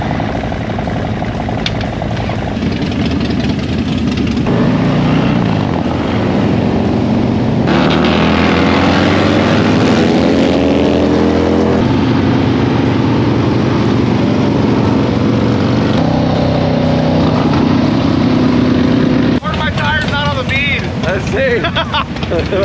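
A Harley-Davidson motorcycle engine thrums loudly and continuously while riding toward Malibu, with shifting revs and heavy wind rush across the microphone throughout.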